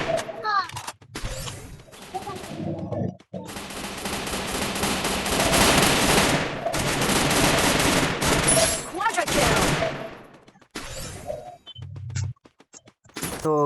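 Automatic gunfire in a shooter video game during a match against a hacker, with dense sustained bursts of rapid shots, loud and close, broken by short pauses and a few isolated single shots near the end.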